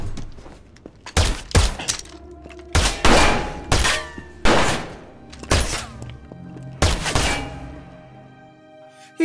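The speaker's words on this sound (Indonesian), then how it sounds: "Ketika di dalam, Nakamoto dan Beckman saling beradu tembak" Gunfire between two hitmen in an action film, heard as a series of loud, sharp bursts and shots spread across the clip with brief pauses between volleys.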